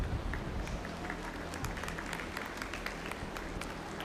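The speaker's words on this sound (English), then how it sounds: "let's give these red and white breeders and exhibitors a big round of applause" Crowd at a Milking Shorthorn and Red & White Holstein dairy cattle show applauding breeders and exhibitors, a sustained round of scattered clapping in a large arena, moderately distant with a low background hum.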